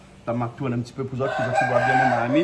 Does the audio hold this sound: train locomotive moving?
no